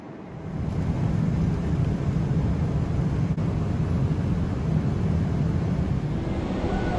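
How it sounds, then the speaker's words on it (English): Steady, loud broadband roar of an airliner cabin as the jet climbs out of Dubai bound for Dallas, holding evenly from the first second with no voices. "Just taking off from Dubai, headed back to Dallas."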